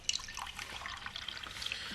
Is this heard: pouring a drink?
yes